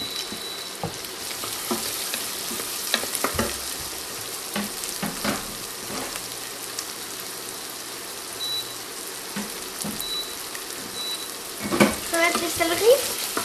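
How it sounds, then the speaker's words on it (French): Chopped vegetables with onions and tomato sauce sweat in a pan, giving a steady, close frying sizzle with occasional stirring scrapes and a brief clatter near the end. "Donc là, on fait suer nos légumes."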